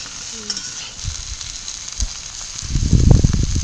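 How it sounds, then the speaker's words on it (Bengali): Raw mango pieces frying in hot oil for a pickle, a steady bright sizzle with a few stirring knocks, swelling louder near the end as the pieces are moved around the pan. "তেলের মধ্যে আমগুলোকে একটু ভালো করে ভেজে নিতে হবে।"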